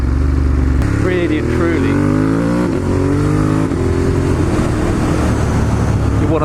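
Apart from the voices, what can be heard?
Ducati Monster 1200S engine revving to 4,000 RPM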